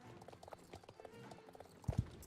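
Rhythmic clip-clopping hooves of a big horse in the video game Star Stable Online, steady light beats that end in two heavy thuds as it lands a jump.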